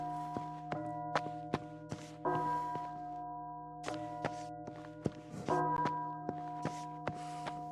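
Bells ring in the video game Pine Harbor, a series of struck metallic tones with sustained ringing overtones, some overlapping, sounding at an irregular pace against a quiet background.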